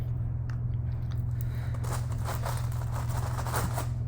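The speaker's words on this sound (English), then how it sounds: "we are going to mimic this while pulling graham crackers apart" Graham crackers are snapped and pulled apart in a kitchen, giving a run of dry, crisp crunching crackles over a steady low background hum, with no one talking.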